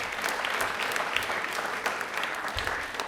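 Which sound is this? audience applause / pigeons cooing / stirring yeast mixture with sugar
audience applause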